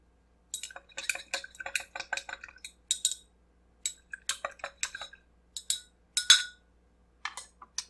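Spoon clinking and scraping against a glass while simple syrup is stirred into a mojito, a quick run of close, bright metallic taps in irregular bursts with brief pauses, alone without talk.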